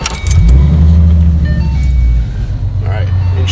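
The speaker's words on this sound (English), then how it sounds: "Engines started. Start your engines." A car engine turns over and settles into a steady low idle, loud and close, with faint rattling and a brief voice in the background.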